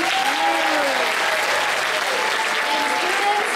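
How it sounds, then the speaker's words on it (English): An auditorium crowd at a science olympiad closing ceremony claps warmly for the students, a loud, steady wash of applause with a few voices calling out over it. "give a warm round of applause to your students"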